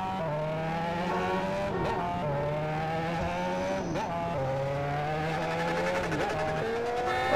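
Honda Hornet motorcycle in a GTA game with its engine held high against the rev limiter, a loud, steady buzzing drone that stutters and dips in pitch several times as the limiter cuts in.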